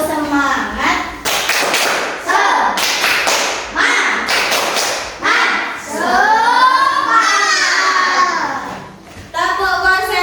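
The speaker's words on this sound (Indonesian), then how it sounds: "kita harus tepuk semangat dulu." A fourth-grade class of children performs a rhythmic spirit clap, with sharp, loud claps in quick patterned bursts alternating with children chanting together in a classroom.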